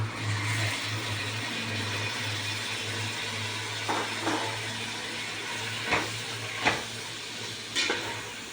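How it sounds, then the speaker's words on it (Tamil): Chopped large tomatoes sauté in oil for chicken biryani, making a soft, steady sizzle over a low background hum, with a few scattered stirring clicks toward the end. "இது தக்காளி நல்லா வதங்கட்டும்."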